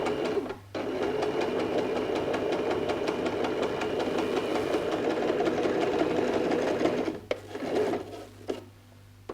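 A sewing machine runs a zigzag stitch on stretch fabric for a T-shirt, a close, continuous rapid whirring hum that stops briefly near the start and then cuts out near the end.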